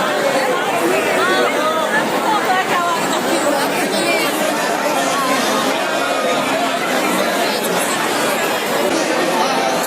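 Dense crowd chatter fills the grounds of Ladliji Maharaj temple in Barsana, a steady, loud babble of many overlapping voices with no pauses, close and all around.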